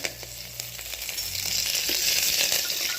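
Cumin, bay leaf and curry leaves dropped into hot oil, crackling and spitting close up, with the sizzle swelling louder and denser as the leaves hit the oil, with no voices.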